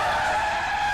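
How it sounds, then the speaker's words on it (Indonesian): A car in a film skids hard with a loud, sustained tire screech over a low engine roar, one continuous burst with no talking, just before it crashes into something. "Tiba-tiba datang sebuah mobil menabrak sesuatu."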